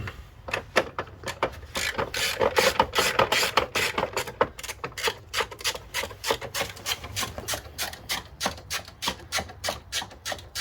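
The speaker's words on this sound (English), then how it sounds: "So now we're going to screw that, tighten that little reverse Torx there down at the bottom." Reverse Torx screw being tightened down at the bottom of a Mercedes A220 battery mount, giving a rapid series of sharp ratcheting clicks that run steadily and close up throughout, with no talking.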